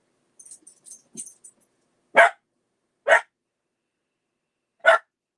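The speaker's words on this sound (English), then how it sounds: "it looks like people are home. The dog is barking." A household dog barks three times in sharp, well-spaced single woofs, close by and clear. Only a few faint chirps come before the barks, and no talk is heard.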